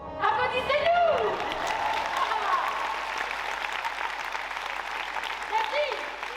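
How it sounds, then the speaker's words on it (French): An audience at a gymnastics club talent show bursts into applause after a chanted cheer, loud full clapping that sustains evenly throughout, with a voice speaking briefly over the start. "Applaudissez-nous."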